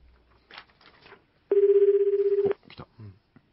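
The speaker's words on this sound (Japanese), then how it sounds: "今実際にねちょっと携帯電話の方にかけてますけども" A mobile phone call rings back through a radio studio line, one sustained electronic ringback tone of about a second, flanked by soft murmurs and brief talk.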